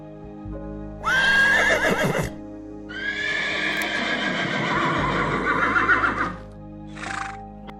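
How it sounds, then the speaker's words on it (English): A horse on a farm gives a loud, close whinny, then a longer shaky neigh, followed by a brief faint call at the end, set over a soft sustained musical background. "Horse."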